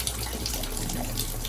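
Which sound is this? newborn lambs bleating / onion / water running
water running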